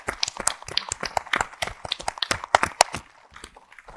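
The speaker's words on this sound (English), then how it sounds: "can we give a round of applause to the caregivers who have shared their stories here today," Scattered, uneven clapping from a modest audience at a kinship caregivers summit, moderately distant and fairly quiet, thinning out toward the end.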